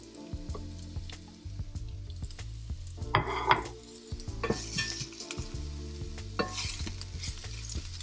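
Chopped red onions and garlic softening in a pan, giving a constant close sizzle with a spoon scraping and clinking against the pan as it stirs, no voices.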